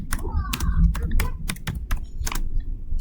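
Commands are keyed into a network switch on a computer keyboard: quick, irregular clusters of close, crisp key clicks over a few seconds, with some faint background noise.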